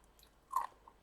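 A thin, crispy flax seed cracker flavored with onion and lemon, bitten close to the mouth: one sharp crunch in the middle of an otherwise quiet moment, with faint chewing around it.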